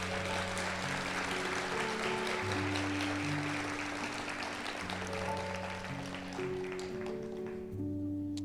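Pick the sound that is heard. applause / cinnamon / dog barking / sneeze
applause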